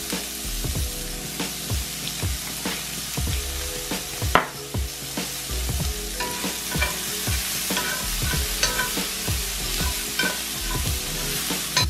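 Garlic and curry powder frying in a pan, a continuous crackling sizzle broken by frequent scrapes and taps of a utensil stirring, with no voices.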